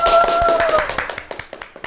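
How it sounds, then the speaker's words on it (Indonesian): A studio audience claps after a wayang puppet performance, at first dense and overlapping with talk and a tone over it, then thinning into a few distinct, evenly spaced claps. "Kasih tepuk tangan dong."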